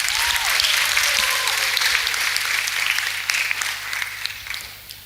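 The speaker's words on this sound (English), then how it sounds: "Can we give both teams a very serious round of applause" An audience at a school debate applauds both teams, with loud, dense, sustained clapping filling the room from start to finish and fading slightly at the end.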